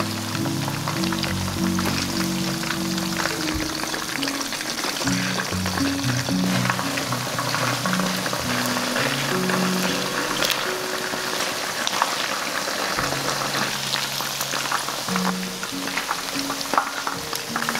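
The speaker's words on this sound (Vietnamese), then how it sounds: "Dầu nóng khoảng 180 độ thì mình cho cánh gà vào chiên." Chicken wings deep-frying in oil heated to about 180 degrees, a steady, dense sizzle and crackle that holds at the same loudness throughout, close up and with no talking.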